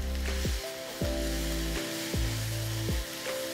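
Dried shrimp frying over high flame in a pan, a loud steady sizzle with repeated low swooping tones from stirring, close and with no talking.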